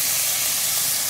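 Turkey strips searing in hot oil in a pan, a loud, dense, continuous sizzling hiss filling the whole short moment with no voices.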